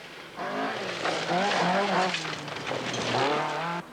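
Audi Quattro rally car, driven by Michèle Mouton on gravel stages of the 1982 Welsh Rally, revs hard through rising and falling gear changes; loud and close, passing over about three and a half seconds.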